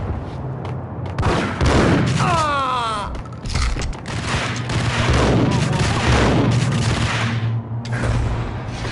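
Grenade explosions and gunfire in the PS4 video game Max Payne: a loud, dense, nearly continuous barrage of booming blasts and rapid shots, with a voice briefly heard amid the din.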